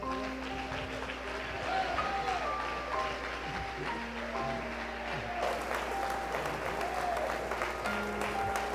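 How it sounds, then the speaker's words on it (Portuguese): Church congregation applauding during a service, steady dense clapping that carries on throughout, with music tones sustained underneath and no talk. "Só pode aplaudir Jesus."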